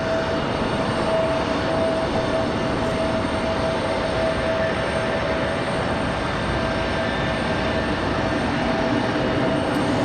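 An airliner at Raleigh Durham International Airport gives a steady, continuous engine roar with a faint tonal whine, holding an even loudness throughout with no voices.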